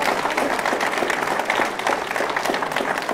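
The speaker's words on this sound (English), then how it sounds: "Please give our campus club a round of applause." Audience at a People's Party of Canada political rally in Saskatoon applauding a campus club, steady dense clapping sustained loudly throughout without pause.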